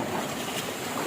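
A motorboat runs out on the water, a steady broadband engine and water rush with wind noise, continuous and fairly loud with no pauses or voices.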